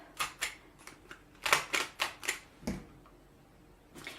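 A 1/2 inch paper corner rounder punches the corner of a paper piece, giving a series of sharp, close clicks and clacks in quick succession followed by a pause and one last click.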